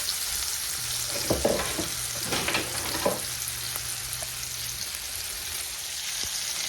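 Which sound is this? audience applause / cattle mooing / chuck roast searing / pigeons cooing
chuck roast searing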